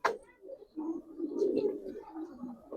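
Pigeons of an old gribaz breed cooing at close range, soft low throaty coos rolling over a couple of seconds, with a brief flutter at the start.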